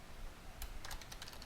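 Quiet keystrokes on a computer keyboard while entering a password to encrypt a backup file during a System Center Service Manager install, a short run of soft clicks over a faint background hiss.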